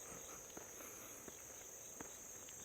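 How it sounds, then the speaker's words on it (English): Crickets chirp near a small creek outdoors after rain, a steady high continuous trill with a few faint soft ticks and footsteps beneath, fairly quiet and even throughout. "Just listen to the crickets"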